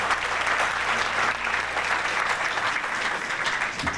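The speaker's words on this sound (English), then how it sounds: "let's give our beloved sister, Lisa Lopez, a round of applause" Warm round of applause for Lisa Lopez from an audience in a hall, continuous crowd clapping held at a steady, fairly loud level from start to finish without speech.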